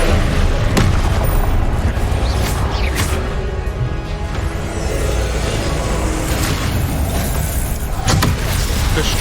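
Confringo spell explosions in the video game Hogwarts Legacy, loud booming blasts and crashes layered over dense rumbling battle noise, several sharp impacts spread across the span with no talking.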